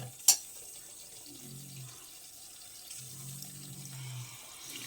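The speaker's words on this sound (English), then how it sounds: "Yeah, you can add a little water." Warm water pours into a pot of trotters being prepared for paaya, with a low trickling flow in two soft bursts and a sharp knock near the start, fairly quiet and with no talking.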